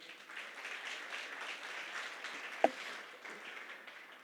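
Soft, distant applause from a church congregation after a Spanish-language sermon, a steady low patter with one sharp close clap standing out midway.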